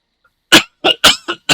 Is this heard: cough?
yes